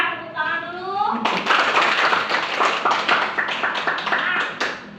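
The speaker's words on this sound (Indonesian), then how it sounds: "Nah, ya bagus ya, tepuk tangan dulu." A classroom of schoolchildren claps together in a dense, sustained burst of hand claps that starts after a moment of a voice and continues loudly to the end.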